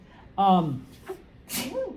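A single sneeze rings out in a lecture hall, preceded by a short voiced intake and followed by a sharp burst, close and fairly loud with nothing else around it.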